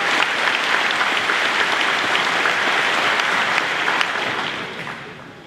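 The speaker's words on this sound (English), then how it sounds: "Let's give these folks a round of applause for their help and participation today." A graduation crowd applauds student marshals with a broad, steady wash of clapping from many hands that holds evenly and then fades toward the end.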